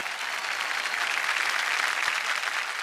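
A television game-show audience applauds steadily and loudly, a dense wash of clapping that holds at an even level from start to finish.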